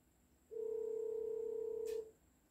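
A phone sounds one steady electronic tone for about a second and a half, clear and fairly close, with no talk over it.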